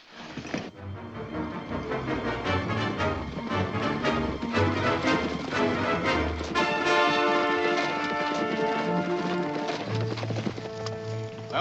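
Horse hooves clip-clop steadily in a 1956 western film, a rhythmic trotting beat heard under an orchestral music score throughout.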